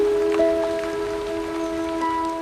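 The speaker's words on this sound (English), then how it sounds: "And from the cleanest air falls the purest rain." Rain falls in Tasmania as a steady, dense patter, close and even throughout, with a faint sustained tone running underneath and no talking.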